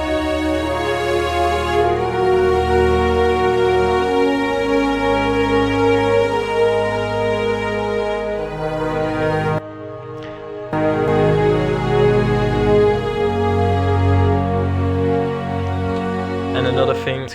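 A full orchestral string section from the Symphobia library swells and falls in slow waves, dense and loud, with a brief near-silent gap midway before the strings return and carry on.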